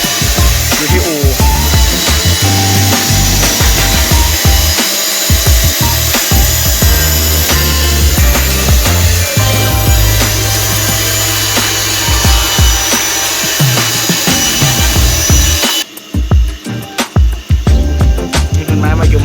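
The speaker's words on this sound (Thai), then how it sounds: "เราจะใช้ตัวเลื่อยแท่นเลื่อยของเรา" A bench saw at a boatyard workshop cuts wood for a model longboat, a loud continuous rasping drone with shifting pitch and gritty bursts that runs almost throughout, then cuts out near the end into scattered knocks.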